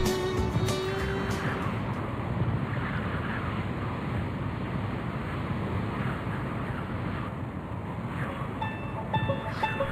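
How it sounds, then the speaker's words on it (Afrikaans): Strong wind roars steadily and close to the microphone for the whole stretch, a dense rushing bluster with gusts, sounding like a storm outdoors. "Hoor hoe hard huil die wind."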